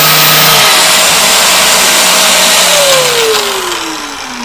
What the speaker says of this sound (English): that was an angle grinder, a heat gun on high, and a belt sander